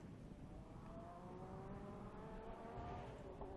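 Two Porsche 962 race cars run together on the track during the Estoril Classics, a faint engine drone with rising and falling pitch carried over a steady low rumble, heard from a distance.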